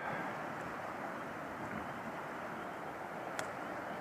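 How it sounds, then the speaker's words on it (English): Wind gusts over the Lake Michigan shore at Nordhouse Dunes with waves rolling in, giving a steady, broad rushing roar that stays constant throughout, with one brief faint tick near the end and no voices. "Got a bit of a wind picking up now too"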